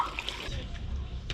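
Water gushes and splashes out of a small well in Malaga, a steady close trickle and spatter with faint background noise.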